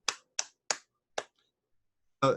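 Four sharp, separate snaps or claps spaced unevenly over about a second, close and dry with silence between them, then a brief burst of a different sound at the end.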